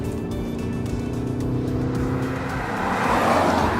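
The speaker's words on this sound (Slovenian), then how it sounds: "zvok motorja postane malo bolj športen, pa še to samo znotri, ker mu pomagajo zvočniki" A 2015 Peugeot 308 GT with a 1.6 turbo petrol engine runs in sport mode, giving a steady engine drone with sustained harmonic tones that shift and rise toward the end, heard alone.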